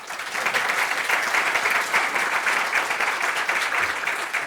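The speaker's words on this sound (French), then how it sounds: "Je vous propose d'applaudir très très très très très fort Robin." An audience at a children's event claps loudly and steadily for several seconds, a dense sustained applause with a few individual claps standing out, and no talking over it.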